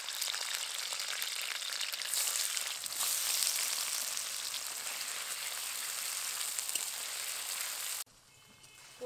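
Paneer pieces fry in hot mustard oil in a kadai, giving a steady, loud, hissing sizzle that lasts several seconds before dropping away abruptly near the end.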